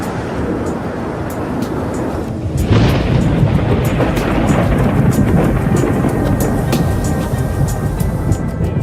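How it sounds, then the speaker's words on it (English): Thunderstorm on the outskirts of Shamrock at sunset, a loud crack of thunder around three seconds rolling into sustained rumble over steady rain-like noise, with sharp bursts of static crackle scattered throughout. "Howie's team tracks a series of storms back to the outskirts of Shamrock."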